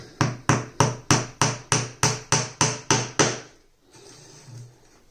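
Gimp pins hammered into a wooden beehive frame: about eleven sharp, evenly spaced taps in a quick steady rhythm, close and loud, followed by quieter handling sounds.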